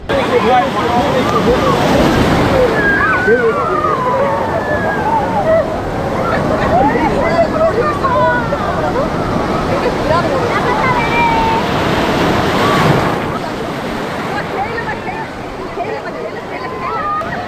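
Continuous roar of sea surf washing on the shore at Digha Sea Beach, India, loud and close, with wind buffeting and faint voices mixed in.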